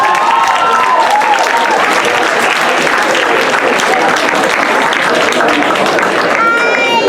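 Lively audience applause at a comedy hypnosis show, loud and sustained clapping from a crowd with some voices and cheering mixed in, a brief whistle or tone near the end.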